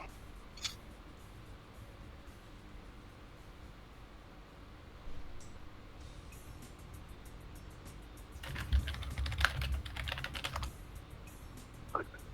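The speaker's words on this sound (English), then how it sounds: "Aggressive typing much?" Fast, hard typing on a computer keyboard comes in quick bursts of sharp key clicks, loudest in a dense flurry near the end, over a quiet room background.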